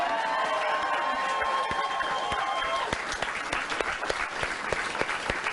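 Studio audience applause at a live late-night comedy talk show, loud, dense clapping that fills the whole stretch, building with sharper individual claps toward the end.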